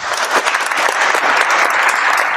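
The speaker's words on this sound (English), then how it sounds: "Hand claps." A crowd applauds steadily and densely throughout, a continuous wash of many hand claps with no single voice over it.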